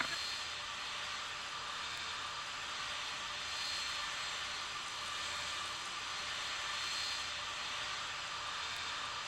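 A FedEx heavy cargo jet taxiing at Memphis in the game Tower Simulator 3, a steady, fairly faint jet-engine whine and hiss that holds constant, with no talk.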